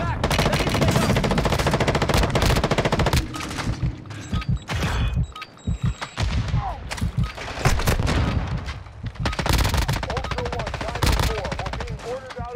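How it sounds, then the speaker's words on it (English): Rapid automatic gunfire rattles in bursts during a Call of Duty DMZ match, with heavy sustained volleys, a brief lull in the middle, and game voices cutting in between shots. "You are taking effective fire."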